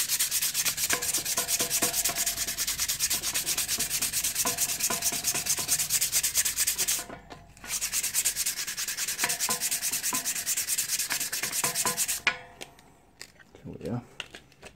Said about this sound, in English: he's still got a bit of rust transferred across to these as well, so we'll just give those a quick sand off